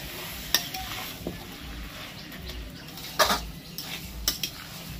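Sugar being stirred into a coconut, prawn and banana flower curry in a pan, with a low simmer underneath and a few sharp clinks and scrapes of a spoon against the pan, close and intermittent.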